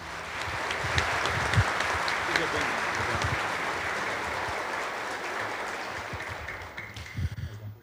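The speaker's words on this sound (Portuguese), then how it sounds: "vamos acolher o nosso bispo com uma calorosa salva de palmas" A church congregation gives a bishop a warm round of applause at a confirmation Mass, a dense, steady wash of clapping that holds for several seconds before thinning out at the end.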